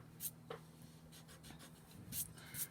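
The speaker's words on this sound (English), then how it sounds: "So I'm actually going to erase that." A pencil line rubbed out with an eraser on a paper drawing: faint, soft scratchy strokes in short bursts, close and quiet with no talking.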